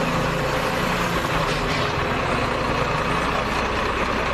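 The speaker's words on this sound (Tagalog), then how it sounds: "Dumarating na truck." A garbage truck arriving on collection day: a loud, steady low engine rumble and idle holding at a constant level throughout, close by and with no voices.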